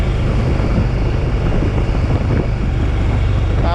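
Vehicle engine running in third gear on a downhill road, a loud, steady low rumble with broadband road and wind roar, continuous and close.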